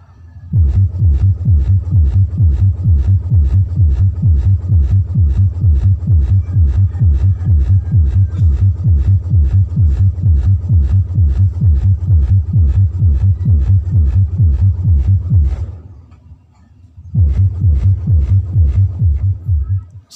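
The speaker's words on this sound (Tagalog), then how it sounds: "So meron na yung tunog ng ating sub." A subwoofer in a sound system pumps low bass in a fast, steady throbbing pulse, loud and close, cutting out briefly near the end before resuming.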